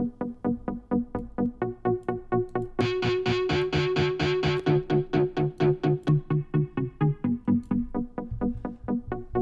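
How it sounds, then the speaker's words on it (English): An EDM synthesizer line runs through a CLA Guitars distortion plugin, a gritty, buzzing pulse of steady rhythmic stabs that thickens into a brighter, harsher layer midway, loud and alone with no talk. "we started throwing the CLA guitars on here, and it really sounds good. There's different distortion levels that you can have"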